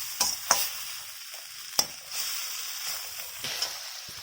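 Tomato chutney ingredients with tamarind sauté in a pan, with a soft steady sizzle broken by a few sharp clacks of a spoon stirring against the pan, close and without talk.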